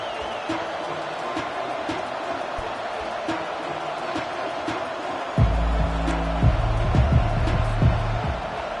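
Steady roar of a large indoor arena crowd at an Alabama vs. Texas football game, with scattered cheers, and a deep rumbling swell joining in partway through.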